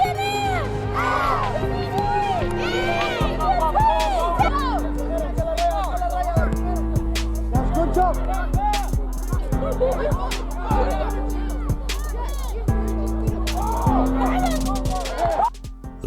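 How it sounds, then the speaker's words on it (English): Visiting Hillcrest crowd cheering and shouting at a homecoming basketball game, a dense sustained roar of many voices over steady music and sharp shouts, loud and continuous throughout. "the visiting crowd pours on the Hillcrest spirit"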